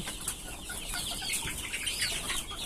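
Free-range desi hens cluck and murmur in short, soft bursts close by, a faint, busy chatter with no talking.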